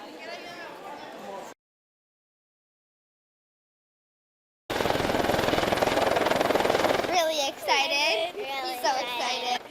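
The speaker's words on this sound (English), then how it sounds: "Santa Claus flew in, trading out his sleigh for this Husker helicopter" A Husker-branded helicopter arriving at a children's holiday event, its loud steady rotor roar filling the scene after a short break, with children's voices and crowd chatter rising over it near the end.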